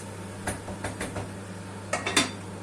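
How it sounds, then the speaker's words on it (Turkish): A few light metallic clinks and taps come from a pot of semolina halva as its lid is set down and closed. The sounds are faint and spaced out, with a last pair of sharper clanks. "kapağını kapatıyorum"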